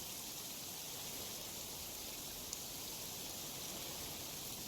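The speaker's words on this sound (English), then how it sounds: "it's raining at the moment." Steady rain falls in Genshin Impact as an even, soft hiss that stays constant throughout, faint and alone, with no voices.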